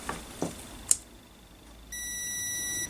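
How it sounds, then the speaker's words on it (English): Tamiya Konghead 6x6 RC truck electronic speed controller powering up: a few faint clicks and a short sharp chirp, then a steady high electronic beep tone that holds quietly to the end. "There's the SC beep."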